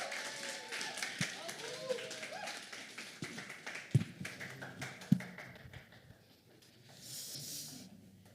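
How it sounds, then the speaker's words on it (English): An audience claps in welcome for a storyteller at a civic memorial gathering, a dense burst of applause with a few sharp close claps that gradually thins and fades out. "Please welcome Abu with a round of applause."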